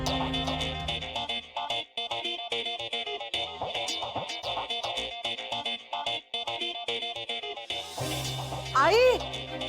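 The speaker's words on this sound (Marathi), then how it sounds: "आई अहो दिव्याचा फोन आहे." A mobile phone plays a bright, repeating melodic ringtone indoors in a home during a Marathi TV drama scene. The tune loops steadily at moderate volume, and a voice calls out briefly near the end.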